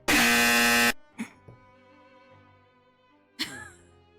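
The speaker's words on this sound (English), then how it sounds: "I actually have an incorrect buzzer noise." An incorrect-answer buzzer sounds once, a loud flat drone lasting about a second, followed by a few faint clicks and a short breathy noise.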